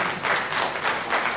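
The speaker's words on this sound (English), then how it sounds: "So let's welcome all the panelists with a bouquet and some claps." Audience applause welcoming panelists at a live-streamed event, a dense steady wash of many hands clapping at moderate loudness throughout, with no voices standing out.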